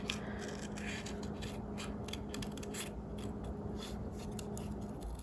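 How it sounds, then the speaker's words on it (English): Scissors bevel-cutting under a paper overlay on a Halloween scrapbook layout, a steady run of soft close snips and scraping paper, faint and continuous with no talk. "I'm kind of angling my scissors underneath the overlay so that it kind of bevel cuts it underneath there"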